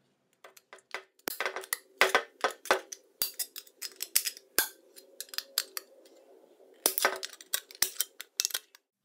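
Ganzo G201B multitool pliers cutting metal, a close series of sharp metallic snips and clicks in irregular bursts, with brief pauses between groups of cuts and no talk.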